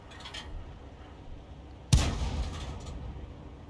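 A tank cannon fires once in a tank video game, a single sudden heavy boom whose rumble fades over the next second and a half against a low background hum.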